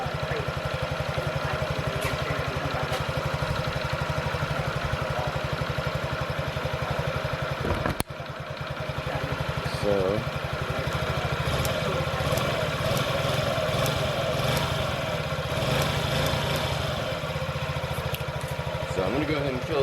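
A 2017 Honda Ruckus scooter engine idles steadily up close, a low, even putter that stays constant throughout with a brief dip midway, while someone talks over it.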